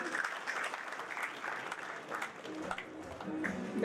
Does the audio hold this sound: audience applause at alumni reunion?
yes